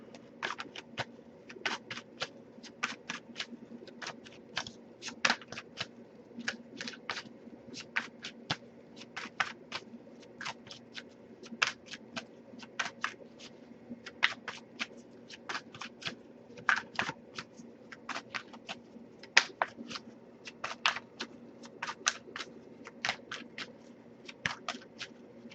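Tarot cards are shuffled in quick, crisp riffling bursts, repeated rhythmically over and over against a quiet background hum.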